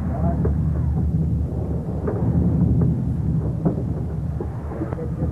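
A storm at sea in a 1931 film, a loud, continuous roar of wind and crashing water with low rumbling underneath, steady throughout and without clear breaks.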